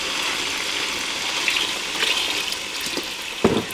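Chicken broth is poured out of a container into a pot, a steady close gush of liquid with a few splashes and knocks near the end.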